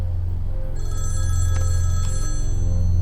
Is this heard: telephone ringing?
yes